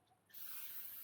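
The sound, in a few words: aerosol spray paint respraying mower cover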